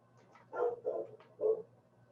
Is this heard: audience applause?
no